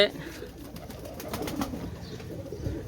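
Golden and Teddy breed pigeons coo softly in a loft, a low, continuous murmuring layered with faint background chatter and rustling throughout.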